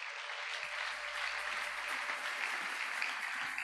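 A church congregation claps together in steady, sustained applause, a dense even patter of many hands heard from a middle distance with no voices standing out.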